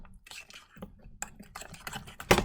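Spoon scraping and clinking against a mug while stirring muffin batter, a quick run of light irregular taps and scrapes close by, with a sharper knock at the end.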